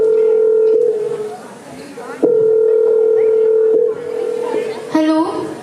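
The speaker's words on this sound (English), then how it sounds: "at night the phone rings" A telephone rings at night as a stage sound effect during a school annual function performance, its loud electronic tone repeating in steady bursts separated by short gaps, with some crowd noise underneath.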